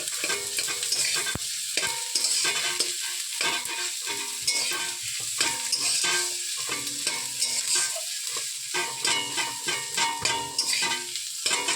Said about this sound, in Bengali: এর মধ্যে সেদ্ধ আলুটা দিয়ে দেবো একটু ম্যাচ ম্যাচ করে দেবে ভালো করে